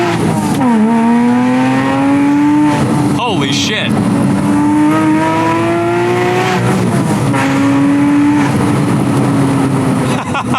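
A Porsche Spyder in sport mode with exhaust valves open, engine revving hard and climbing through gears with brief drops at shifts, loud and close from inside the car, with a voice exclaiming over it.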